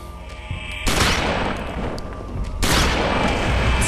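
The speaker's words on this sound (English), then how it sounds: "You know what that means? Shotgun time." Shotgun fire in the video game Eternal Darkness: two loud, booming blasts about two seconds apart, each followed by a long, rumbling decay, with no talking.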